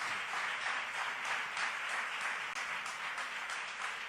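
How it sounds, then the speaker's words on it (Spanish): A church congregation applauds together in a steady, dense wash of clapping that holds evenly throughout, fairly near and loud, with no talk over it. "denle un aplauso fuerte a Dios por eso."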